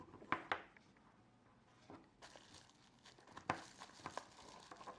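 A small cardboard box holding a camera lens adapter is opened close by, with faint crinkling and tearing and a few sharp taps and rustles in an otherwise quiet room.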